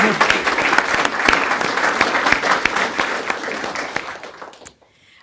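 An audience at a school board of education meeting claps loudly and steadily for several seconds, then the applause tapers off and ends in near silence.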